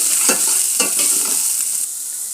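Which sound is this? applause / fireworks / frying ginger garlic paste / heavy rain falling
frying ginger garlic paste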